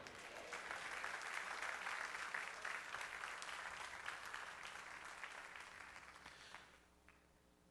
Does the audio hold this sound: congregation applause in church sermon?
yes